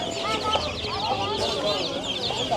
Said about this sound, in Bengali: এই যে কত সুন্দর সুন্দর হাঁসের বাচ্চা